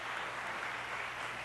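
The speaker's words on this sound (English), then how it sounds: "give yourselves a big round of applause" Applause from a city council meeting audience, a steady, even wash of many hands clapping held at constant level throughout, with no pauses or voices standing out.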